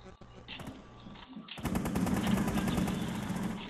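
Rapid automatic gunfire in Tom Clancy's Rainbow Six, a dense, loud sustained burst of shots that kicks in after a short quieter stretch of scattered game sounds, with a voice talking underneath.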